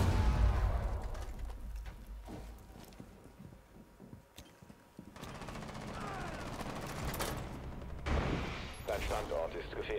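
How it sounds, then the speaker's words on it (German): Gunfire bursts in the tactical shooter Rainbow Six Siege, heavy and rapid at the start, then scattered shots and crackling rumble under the action, with people talking over the fighting. "Ich hab geschossen! Ich hab diese Taste gedrückt!"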